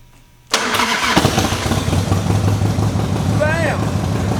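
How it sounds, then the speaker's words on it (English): An older Harley Davidson motorcycle cranks and catches at once, settling into a loud, close, lumpy idle with the throttle cracked a couple of times, a brief high whine near the end. "I'm just going to fire this thing up. So I'm going to reach down here, flip the key, crack the throttle twice."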